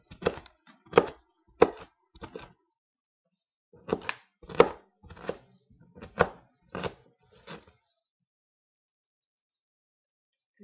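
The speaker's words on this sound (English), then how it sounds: "you can add your chopped up broccoli, which let me finish chopping this" A kitchen knife chops broccoli on a board in quick clusters of sharp, crisp cuts with short pauses between bursts, close and clear with no talking.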